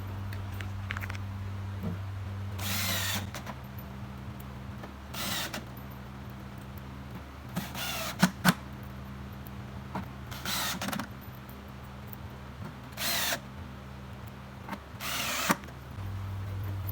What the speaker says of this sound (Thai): ใส่เดืนไม้ทั้ง 4 จุด ก็จะยิงน็อตตัวยาวสวนค่ะ